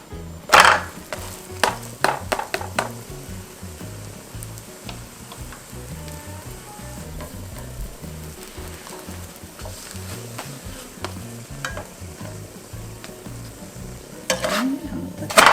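Potato bread cooking in a buttered frying pan with no baking powder and no oven, giving a steady soft sizzle. A few sharp clinks and scrapes from utensils or a lid sound near the start and again near the end.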